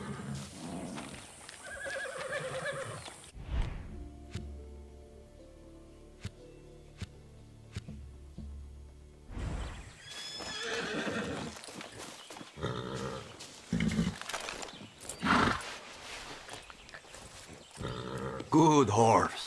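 A horse whinnies and snorts close by amid hoofbeats and shuffling in the video game Far Cry 6, with a voice speaking briefly over the ambient game sounds.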